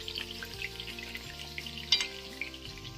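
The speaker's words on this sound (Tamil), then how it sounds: "இப்போ சிக்கன் வந்து நல்லா ஃப்ரை ஆகும்" Butterfly chicken fries in a pan with a faint, steady sizzle under soft background music, a brief clatter near the end, and no one talking.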